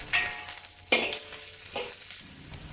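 Scallions, ginger and garlic sizzle in hot oil in a wok, with several bursts of frying as the aromatics are stirred and tossed, loud and close with crackling hiss throughout.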